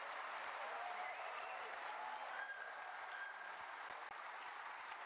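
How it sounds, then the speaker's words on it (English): A large crowd at Kai Tak Arena applauds a snooker shot, steady sustained clapping heard from a distance, fairly faint and even throughout. "Warmly appreciated by this large crowd at the Kai Tak Arena."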